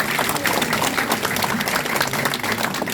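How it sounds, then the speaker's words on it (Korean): Applause fills a political campaign office opening event in Incheon as guests are introduced, a steady dense clapping wash from a crowd throughout, fairly loud and continuous with no pauses. "박수 부탁드립니다"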